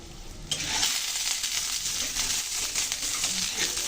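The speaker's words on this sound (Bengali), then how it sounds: "এখন ডালগুলো আমি ভেজে নেব।" Lentils (dal) hit hot chilli-flavoured oil in a wok and break into a steady, bright sizzle that holds close and even throughout, with no talking.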